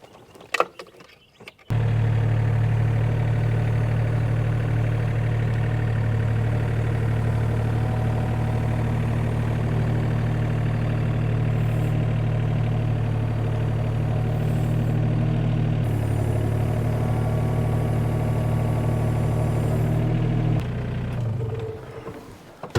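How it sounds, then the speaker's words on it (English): An excavator engine starts up and idles with a loud, steady low rumble while it raises a saw log. The rumble holds for about twenty seconds, with a brief dip partway through, then fades out near the end. "I'm gonna use the excavator to raise it up just a little bit."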